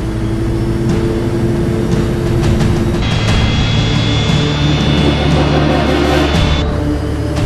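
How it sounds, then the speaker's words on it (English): A Fokker F-28 jet airliner struggles through a slow, sluggish takeoff roll, heard as a loud, steady engine roar with a rising high whine and constant rumble, heard from the cabin. "The F-28 struggles to get airborne."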